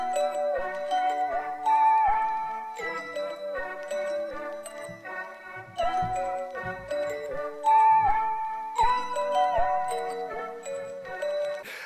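A bright synthesized bell melody plays alone, each note struck clearly and ringing briefly in a steady rhythm.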